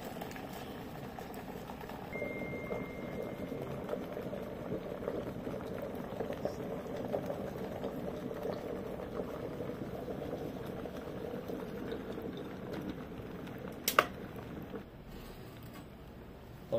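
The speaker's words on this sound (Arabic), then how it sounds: "وننتظر عليه من 10 دقائق الى 13 دقيقة غليان ماء" Water bubbles and rumbles at a steady boil inside a metal samovar, a continuous low churning with a brief sharp click near the end as the switch turns off.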